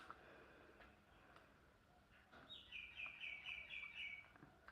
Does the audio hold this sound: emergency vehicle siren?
no